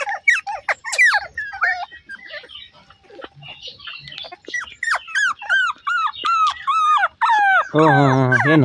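Shih Tzu, Beagle and Pug puppies at play, letting out a steady stream of high, sliding whimpers and squeaky yelps close by, ending in a sustained, more tonal whine.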